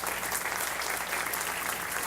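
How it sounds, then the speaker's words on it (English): A brief, even wash of crowd applause at the Spy Museum groundbreaking ceremony at L'Enfant Plaza, many hands clapping steadily at a moderate distance with no voices on top. "Give that a round of applause, because we are."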